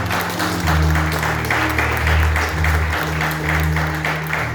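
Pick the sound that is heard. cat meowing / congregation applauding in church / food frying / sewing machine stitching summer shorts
congregation applauding in church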